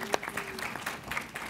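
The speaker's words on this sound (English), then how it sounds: "That deserves applause, by the way," Audience applause at a gathering of Washington D.C. city leaders, a short burst of scattered clapping from a room, with a voice briefly audible over it.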